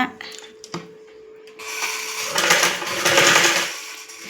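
Sewing machine stitching neck piping on fabric, a fast whirring run of stitches that starts after a few soft handling clicks and taps, close and moderately loud, then stops abruptly near the end.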